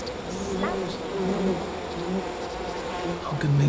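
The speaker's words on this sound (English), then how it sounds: "All these bees are going to kill me." Swarming bees in the video game We Happy Few, a continuous close buzzing drone that stays loud throughout, with faint game sounds beneath.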